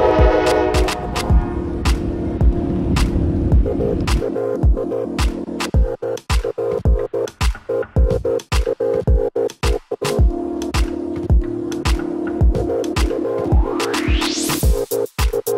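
A slow Norfolk Southern freight train rolls past close by in Conneaut, Ohio, with a steady low rumble and a long run of regular rhythmic wheel clacks over the rail joints, plus a rising squeal toward the end.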